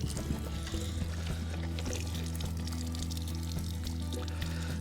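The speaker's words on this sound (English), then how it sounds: "So what I'll do is I'll fill it with water." Water pours steadily into a Scrubba wash bag as it is filled for laundry at camp, a soft continuous gurgling stream heard alone and fairly quiet over a low background hum.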